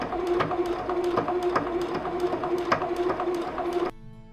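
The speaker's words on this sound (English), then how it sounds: "The clunking sound is actually the needle puncturing the fabric and not the machine itself." A Juki HZL-F400 sewing machine stitches through four folded layers of canvas, giving a steady rapid clunking of the needle over a constant motor hum. The sound is close and loud, then stops abruptly near the end.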